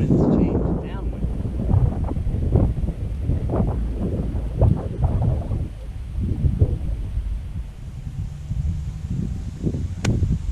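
Steady wind on a golf course buffets the microphone with a low, continuous rumble that swells and eases, while a voice talks intermittently over it.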